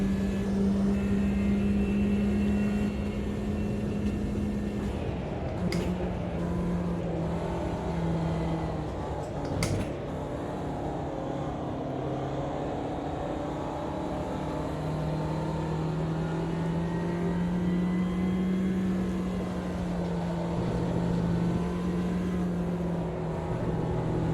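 Ginetta race cars lapping in the racing game Automobilista 2: a continuous, close engine drone whose pitch rises and falls as the car changes speed, steady throughout with a couple of brief knocks.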